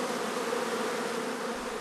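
Honeybees at beekeeping hives, a dense continuous buzzing drone of many insects, steady and close, with no voices.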